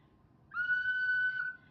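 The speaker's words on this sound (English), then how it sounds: "A little bit higher, that's a better whistle." A small handmade clay whistle blown in one steady, clear, high-pitched note lasting about a second, loud and alone against a quiet room.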